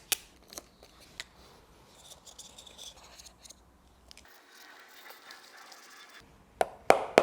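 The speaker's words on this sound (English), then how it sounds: "Got scissors for cutting metal." Metal shears snip sharply through sheet metal during restoration of a BMW E31 850i, crisp close clicks spaced irregularly, with quieter scraping between cuts and a brief hush before a final flurry.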